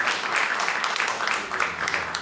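Dense, sustained audience applause at an Azerbaijani event as Tural is sent off, many hands clapping loudly and continuously from start to finish with no pause.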